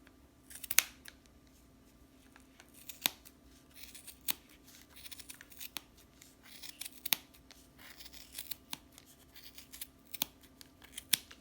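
Sharp scissors snip through yarn wound on a Clover pom-pom maker, giving quick, crisp cuts at irregular intervals, close and fairly quiet, with a soft rustle of fibres between them.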